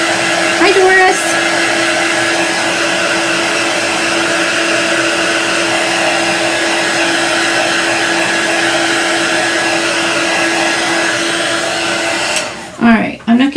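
Steady, loud whirring blast of a heat tool warming ink on a craft mat, running without a break for the length of the clip before cutting off abruptly near the end.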